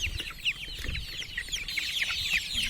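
Kairali chickens clucking busily while being fed on a free-range farm, a dense, continuous chorus of short chirpy clucks from several birds close by, no voices.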